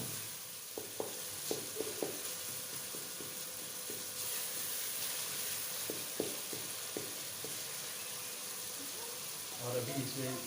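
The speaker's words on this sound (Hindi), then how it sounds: "अभी डाल देते हैं कुटा हुआ अदरक, लहसुन और कुटी हुई काली मिर्च, और इसको 1 से 2 मिनट भून" Crushed ginger, garlic and black pepper fry in a pan for nargisi kofta masala, a steady soft sizzle with scattered stirring clicks and taps throughout, and a louder burst of activity near the end.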